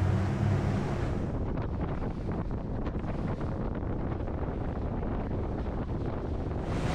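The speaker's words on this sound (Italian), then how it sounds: "le onde diventano sempre più grandi mano a mano che ci allontaniamo" Rough open sea off Genoa during a sea trial of a Pirelli 42 powerboat: steady, loud wind buffeting the microphone over continuous crashing waves and hull rumble, with no voices.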